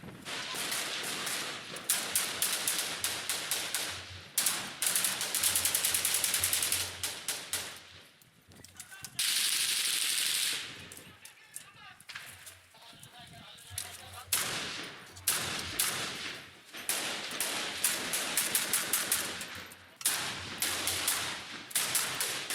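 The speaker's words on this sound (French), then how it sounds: "Nous finissons par rapidement nous retrouver coincés au milieu des rafales d'armes automatiques." Automatic weapons fire in Syria rattles out in repeated rapid bursts, some sharp and close, others more distant, with brief lulls between volleys and occasional voices in the background.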